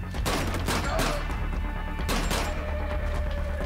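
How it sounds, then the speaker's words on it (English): Pistol shots in the video game Killzone: Shadow Fall, a few sharp, loud cracks spaced apart over a dense game soundscape with a low rumble. "It's somewhere behind this pistol that I'm shooting."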